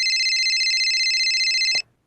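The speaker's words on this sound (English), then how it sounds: "she finally gets a phone call" An electronic phone ringtone for an incoming call, a steady pulsing high-pitched tone that plays continuously and then cuts off abruptly as it is answered, with a faint handling click.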